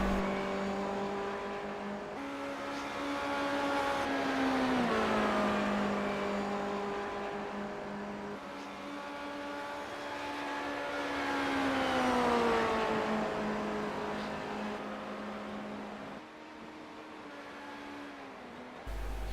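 Race car engines on the Daytona International oval in a racing game, a continuous high-pitched drone. The tone rises and falls with gear changes and speed, and stays steady and fairly close throughout.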